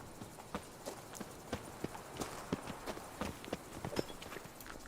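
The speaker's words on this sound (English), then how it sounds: "There's one gallop." Horse hooves clip-clopping in The Witcher 3: Wild Hunt Blood and Wine expansion, a steady quick run of hoofbeats, fairly quiet and close, with no talk over it.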